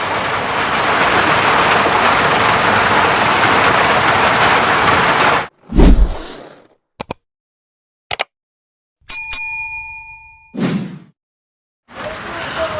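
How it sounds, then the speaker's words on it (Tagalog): Steady rain falls as a dense, even hiss that cuts off partway through, leaving several brief whooshes and sharp knocks separated by silence. "Nagtuloy-tuloy po ang ulan mga kabayan."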